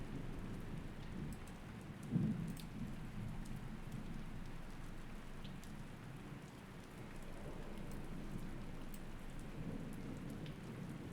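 Rain and rolling thunder ambience from the video game Myst, a steady wash of rainfall with low rumbles throughout and a brief louder thunder crack near the start, constant and enveloping with no talk.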